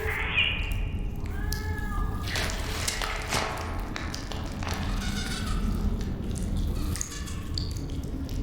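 In the video game Stasis, a cat meows in short rising cries, then wet squishing and thudding blows follow as something attacks it, against a low, droning ambient background.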